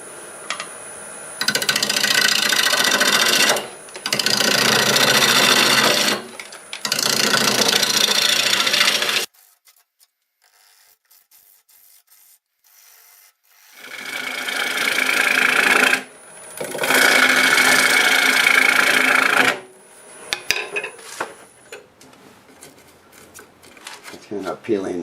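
A lathe spins cherry wood at 860 RPM while a 5/8 bowl gouge cuts it, producing loud raspy shearing bursts of several seconds each, separated by quiet pauses with a faint motor hum and some talking.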